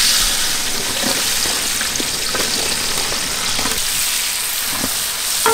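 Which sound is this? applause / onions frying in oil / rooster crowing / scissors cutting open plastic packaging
onions frying in oil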